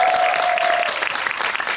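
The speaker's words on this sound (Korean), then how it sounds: "박수 한번 부탁드립니다." A cinema audience at a film Q&A session breaks into warm applause, dense and continuous clapping that fills the room for under two seconds.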